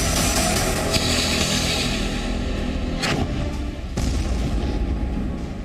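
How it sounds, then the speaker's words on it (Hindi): Hamas rockets strike close to a reporter in Israel, a loud continuous roar of heavy booming blasts with sharper impacts cutting through around the third and fourth seconds. "जी मीडिया संवाददाता जिस वक्त रिपोर्टिंग कर रहे थे उनके करीब ही हमास के रॉकेट आकर गिरे।"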